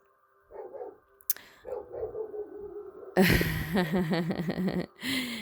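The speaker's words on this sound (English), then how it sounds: "we hear the dog heading for the door, just so sure that someone is trying to infiltrate" A dog barking as it heads for the door, a series of short barks growing louder and closer, with a burst of rapid agitated barking near the end.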